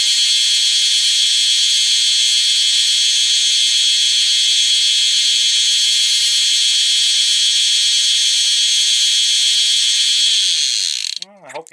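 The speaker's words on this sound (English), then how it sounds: "get you over here at the belt sander" Belt sander tapering a buttstock cover part for an 1866 Yellow Boy Winchester rifle, a loud steady whine that runs continuously and then spins down at the end.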